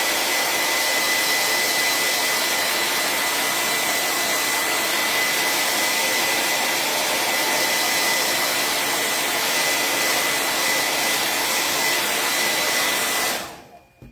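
A hair dryer blows hard and steady, drying white chalk paint on DIY patriotic fireplace mantel decor; a loud, close, continuous whooshing roar that holds for the whole stretch and then cuts off abruptly at the end.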